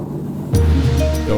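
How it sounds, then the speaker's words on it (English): A steady low engine rumble starts abruptly and continues with rushing water and wind noise as a dive boat motors across the open Red Sea. "the captain is moving the boat to our next dive site"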